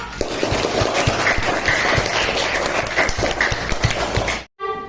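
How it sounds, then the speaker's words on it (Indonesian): A class of schoolchildren applauds all the groups together in a classroom, a dense continuous patter of many hands clapping close by for several seconds before stopping abruptly. "Tepuk tangan untuk semua kelompok."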